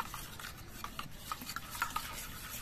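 Spices, salt and a little mustard oil being mixed together by hand for a vegetarian potol bhapa with milk, giving soft, close, continuous squelching and rubbing with small irregular wet clicks, no talking.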